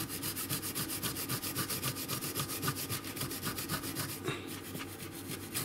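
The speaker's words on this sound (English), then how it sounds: "I thought I'd give it a try with some Scotch-Brite at first" Scotch-Brite pad scrubbed by hand over a Mac Tools P301781 tool during a flea-market find restoration, a steady close rhythmic rubbing and scouring with rapid even strokes throughout, alone without talk.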